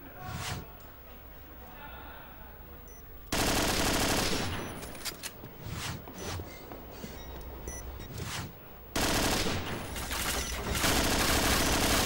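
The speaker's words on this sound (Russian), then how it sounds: "Пошла перестрелка" Dense bursts of automatic gunfire from a competitive shooter match after a bomb plant, rattling in long loud volleys with brief pauses, under a commentator's excited talk.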